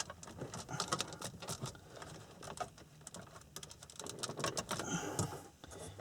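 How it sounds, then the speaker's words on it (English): A car radio unit being pushed into the dash of a Ford Focus, with close, soft plastic scraping and a scatter of small clicks and taps during the install. "we're just gonna slide it right into place there. It should click into place."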